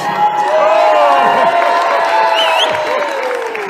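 A large outdoor political rally crowd cheers, whoops and claps in a loud, sustained roar that fills the whole stretch, with scattered shouts rising above it.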